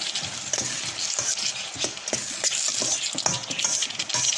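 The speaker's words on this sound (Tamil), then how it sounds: "சால்ட்டு சேர்த்து நல்லா வதக்குங்க." Chicken kurma masala sautéed with salt in a pan, a spatula scraping and knocking in quick irregular strokes over a steady, close sizzle, with no talking.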